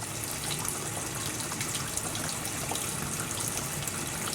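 Water from a hose pours into a pressure-washing supply tank in a steady, loud, full rushing flow with no pauses.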